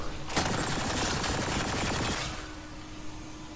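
Rapid automatic gunfire from the video game Mass Effect Andromeda, a dense burst of shots lasting about two seconds, loud and close, then a quieter background hum.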